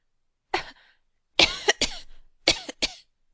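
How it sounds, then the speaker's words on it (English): A woman's dry cough in her throat, voiced in a narrated reading of Dickens' Hard Times: one short cough, a pause, then a cluster of three quick coughs and two more, close and clear against silence. "was affected with a cough in her throat"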